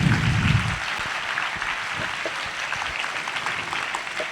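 Audience at a youth camp session clapping for a speaker, dense steady applause filling the room, starting loud and staying even throughout with no talk.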